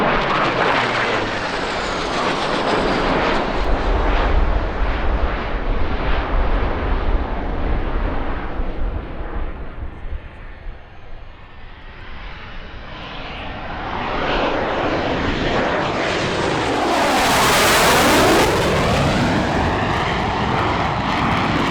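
MiG-29 jet aircraft flying at a military airshow, loud roaring engine passes with a dip in the middle, then a rising, sweeping jet howl as it streaks by again.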